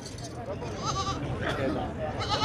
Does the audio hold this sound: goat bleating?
yes